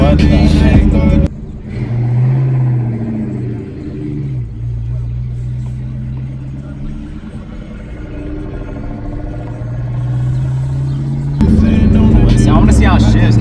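A Ford Mustang drives on a freshly installed clutch, its engine rumbling steadily and loudly with shifts in pitch as it pulls along, while people talk over the drone.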